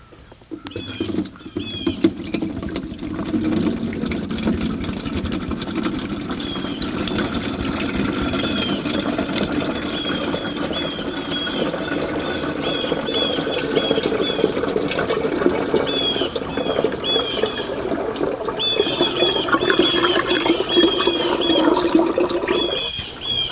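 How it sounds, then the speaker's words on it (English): Waste car oil, drawn out with a vacuum pump during an oil change, is poured into a container in a steady, gurgling stream that thickens and grows louder toward the end. "Pour out the waste oil."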